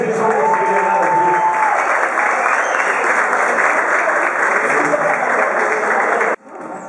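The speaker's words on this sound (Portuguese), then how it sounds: "uma salva de palmas" Loud, dense applause from a crowd at a celebratory dinner honoring former football champions, a sustained roar of clapping with faint voices mixed in, cutting off abruptly near the end.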